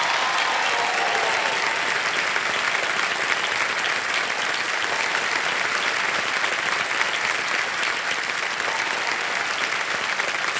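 Dense, continuous clapping from a quiz-show studio audience welcoming actress Shefali Shah, loud and unbroken from start to finish.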